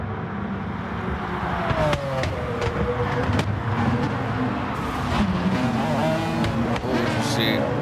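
Race cars in a racing video game drift through a turn, engines whining steadily and loudly throughout with shifting pitch, under continuous commentary.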